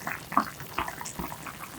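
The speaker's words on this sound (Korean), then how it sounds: "보글보글 끓여주세요." A pot of zucchini soup with onion and garlic bubbles on the boil, soft liquid blips and burbles popping at irregular intervals, close but quiet, with no talking.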